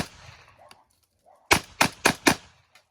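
An Ithaca Model 37 28 gauge pump shotgun fires four loud, close blasts in quick succession, each a sharp crack with a short tail, after a quiet stretch of faint movement.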